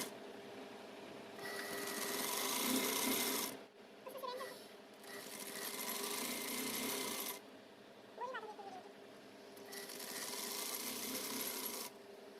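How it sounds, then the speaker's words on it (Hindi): A sewing machine stitches a quarter-inch folded hem in three long runs of fast, even whirring, each separated by a short pause. "इस तरह से हम पाव इंच पे फोल्ड करेंगे और स्टिच करते हुए पूरे राउंड को सिलाई लगा लेंगे।"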